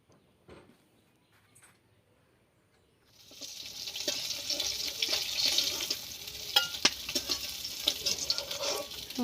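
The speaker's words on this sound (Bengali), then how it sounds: "মাছটাকে আগে আমি ভালো করে ভেজে নেব" Foli fish fries in hot oil, starting near silence and then breaking into a steady, bright sizzle with sharp spattering pops that continue to the end.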